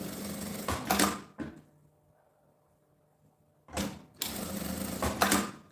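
A sewing machine stitches fabric for a small school bag in two bursts of rapid mechanical whirring, separated by a quiet pause of a couple of seconds.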